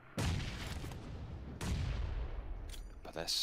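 Grenades exploding in PUBG Mobile during a competitive match, two heavy booms in close succession followed by rumbling gunfire crackle, loud and near.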